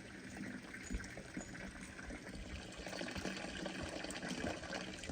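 Water pours steadily onto young coffee plants in a hillside garden, a soft continuous splashing and trickling that stays faint and even throughout, with no talking.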